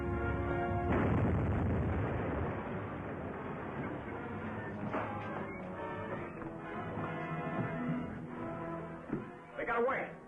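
A staged explosion in a 1940s radio serial set aboard a ship: a loud booming blast erupts, then a long rumbling roar of debris and crashing slowly dies down.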